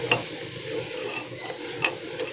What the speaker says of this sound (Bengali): এখানে চালটা আমি বেশ একটুখানি নাড়াচাড়া করে নিয়েছি।